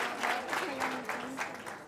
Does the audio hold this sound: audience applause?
yes